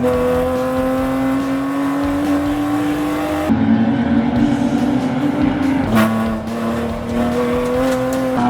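Race cars roar loudly and continuously at close range, engines rising in pitch as they accelerate, with a sharp gear-shift drop and a second car's engine note joining near the end.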